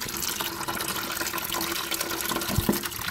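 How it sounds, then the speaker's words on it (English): Rainwater runs from an old storage tank through a water line with no pump, a steady gushing, splashing flow close by, with a brief lower thump near the end. "And that's rainwater flowing right there."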